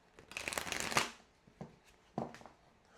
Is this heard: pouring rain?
no